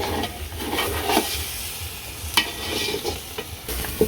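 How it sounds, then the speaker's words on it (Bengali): Meat fries in a pan at a village home kitchen, with a low sizzle under sharp, irregular scrapes and clatters of a spoon stirring it, close up and without speech. "মাংস দেওয়ার পরে ভালো করে মেশান রাখবো।"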